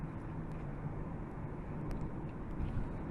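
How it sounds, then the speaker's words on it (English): Soft, steady road rumble fills the cabin of a 2024 Honda CR-V while driving, low and even with a faint hiss and no voices. "the road noise in this car, compared to my CRV,"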